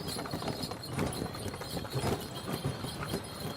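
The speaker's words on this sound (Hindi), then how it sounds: "घोड़े की टॉप सड़कों पर तबले की आवाज की तरह एहसास देती है" Horse hooves clip-clop steadily on a road as a horse-drawn tanga moves through a narrow lane in Ayodhya. The rhythmic, moderately close beats continue throughout over light background noise.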